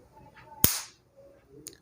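A ceiling exhaust fan's capacitor is shorted across its terminals with a plastic-covered tester, giving a single sharp, loud spark-pop crack with a brief crackling tail, followed by quiet handling noise.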